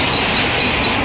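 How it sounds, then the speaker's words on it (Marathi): A train rolls past in the morning, a loud continuous roar of wheels and carriages filling the whole short moment with no break. "ट्रेन बघा सकाळ सकाळ"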